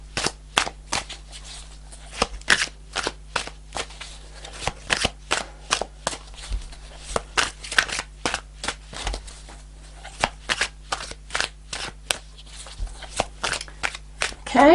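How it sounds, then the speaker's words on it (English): Tarot cards shuffled in quick riffling bursts, a long run of sharp crisp flutters close up, with brief pauses between shuffles. "Okay, I'll shuffle a couple more times."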